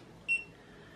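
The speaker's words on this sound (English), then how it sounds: "Beeps to indicate that it's doing something" A single short electronic beep from a Gitup Git2 wrist remote, faint and brief, over quiet background hiss.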